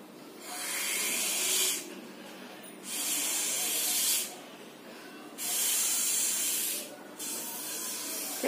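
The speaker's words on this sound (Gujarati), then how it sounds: "હવે આપણે બલૂનમાં હવા ભરીશું સ્ટ્રોની મદદથી।" Breath pushed through a drinking straw to inflate a balloon in a school air-pressure experiment gives about four steady, breathy hissing bursts, each lasting a second or more, separated by short pauses, close and fairly quiet, with no talking.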